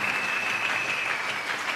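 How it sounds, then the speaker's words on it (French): Applause from a church congregation during a sermon, a dense steady clapping that fills the whole short stretch, no talk over it. "Acclamons très fort pour les voix."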